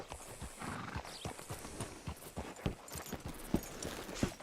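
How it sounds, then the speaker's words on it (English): Horse hooves clop steadily at close range with a whinny near the end, in the Western video game Red Dead Redemption 2, over a faint background bed. "Hitch your horse up here."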